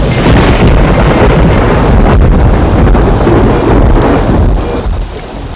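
Heavy rain pours steadily in a dubbed horror movie scene, a dense loud hiss layered with deep rolling thunder rumbles that swell and fade throughout.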